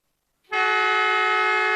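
Siren-style horn marking the end of the first quarter at a women's AFL match between Nelson Bay and Wallsend-West Newcastle, one loud sustained blast after brief silence, alone and close.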